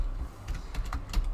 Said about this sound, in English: I'm going to start typing in some names